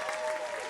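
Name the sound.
applause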